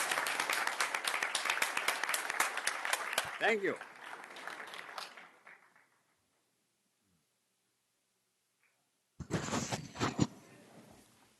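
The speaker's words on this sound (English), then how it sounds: "Gentlemen, give them a round of applause." Applause rings out at a school board of education meeting, a dense burst of many hands clapping that fades away, followed by silence and then a short second round of clapping, with a voice briefly speaking.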